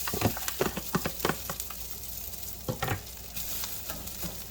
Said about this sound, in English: My oil is all heated up. I'm going to add my cooked whole rice.